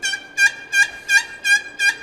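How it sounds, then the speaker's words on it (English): A strutter box turkey call, built to cut through wind and locate distant birds, rings out loud and close in six evenly spaced, raspy yelps with no talk over it. "My go-to turkey call, really, like I'll use a slate, and this strutter box though."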